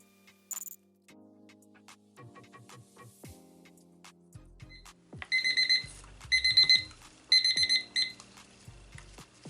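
A kitchen timer alarm goes off after being set for five minutes during resin mixing, sounding in several loud, rapid beeping bursts among quieter clicks and handling noises, with no speech.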